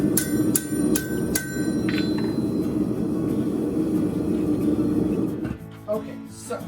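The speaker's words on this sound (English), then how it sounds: "The important thing is you keep your eye on where you're hitting the hammer, and it'll go where you're looking." A hammer strikes hot steel during forging in a shop, ringing metallic blows in a quick rhythm at first, then sparser, over a steady rumbling background with some talk.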